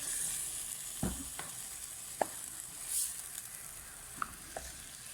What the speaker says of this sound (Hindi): इसको भी हम 8 से 10 मिनट अच्छे से फ्राई करेंगे इनको। और मिक्स करते हैं अच्छे से।